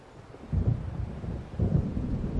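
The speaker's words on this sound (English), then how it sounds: "It seems there's a storm coming." Rolling thunder from an approaching storm in the video game Alan Wake, two low rumbles swelling about a second apart, moderately loud with no talk.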